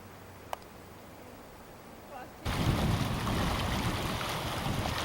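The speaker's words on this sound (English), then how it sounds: "A beautiful meandering little brook where we're stopping to have our lunch." Small meandering brook in Yellowstone flows near the lunch stop. After a quiet opening, a steady broadband rush of running water starts abruptly and holds evenly, fairly loud and close.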